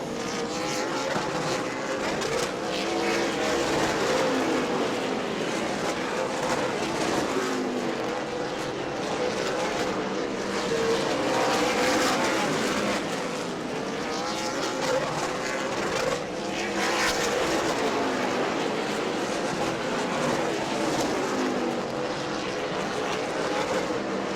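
Race cars lap the track at an Auburndale charity race day, a continuous engine roar that swells and fades as cars pass, heard from trackside at moderate distance.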